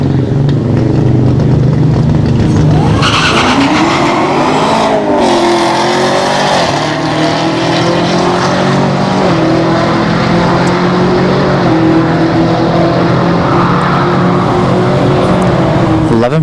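A Chevrolet Camaro ZL1 makes a solo drag-racing pass at Orlando Speed World, its engine roaring loudly as it launches and pulls hard through rising revs, with crowd noise and an announcer's voice underneath.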